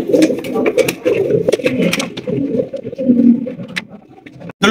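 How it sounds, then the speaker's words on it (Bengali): Pigeons, including White Danish and Shekhar breeds, coo in close, overlapping low rolling phrases at a loft. Their calls continue almost without pause, and some faint voices may be present. "এখানে দুই কোয়ালিটির কবুতর, একটা হচ্ছে হোয়াইট ডেনিশ, একটা হচ্ছে শেখর।"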